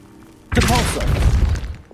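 A Depulso spell cast in Hogwarts Legacy, a sudden loud magical blast with a crashing, thudding burst that rings briefly before fading.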